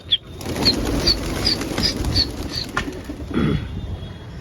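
Pigeons flap their wings in a quick fluttering burst, joined by a string of short, bright chirps at a steady pace and a softer flutter near the end, fairly close.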